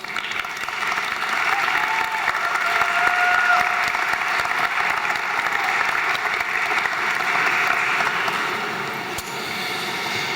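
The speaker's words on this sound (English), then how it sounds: "giving them a very deserved round of applause" A commencement crowd gives a long, steady round of applause, dense and sustained at moderate distance, swelling then easing slightly toward the end.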